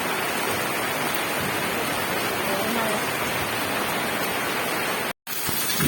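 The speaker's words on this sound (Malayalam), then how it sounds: "നല്ല മഴയാണ് കേട്ടോ ഇടിയോട് കൂടിയുള്ള മഴയുണ്ട്" Steady, dense thunderstorm rain on a hilltop hisses evenly and without pause, then cuts out briefly near the end before returning.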